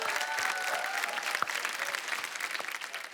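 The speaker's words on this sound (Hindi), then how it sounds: "जोरदार ताली हो जाए मेरे गुरुजी के लिए।" Loud, sustained applause for a guru from a crowded studio audience at a business game show final, dense clapping throughout with a few sharper claps standing out.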